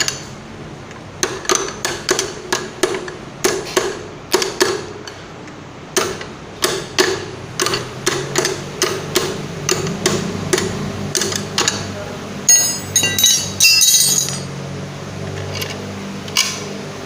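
The clutch housing on a Hero Honda Discover 135/125 engine is tapped into place with a 10 mm T-wrench, giving a long series of sharp, close metallic knocks in irregular bursts, with a brief clattering rattle near the end.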